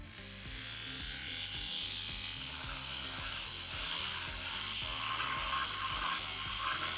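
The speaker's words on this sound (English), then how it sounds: "Depending on the speed of your linear sander, the material that you're working on" A linear sander works over a resin 3D print to remove support marks, making a fast, steady buzzing vibration that holds at an even level close to the microphone.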